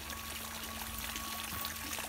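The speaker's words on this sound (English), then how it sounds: "you can hear the beautiful water" Water trickles and pours steadily in a garden water feature at a summer treatment practice, a soft continuous splashing stream, fairly quiet and close, with no voices.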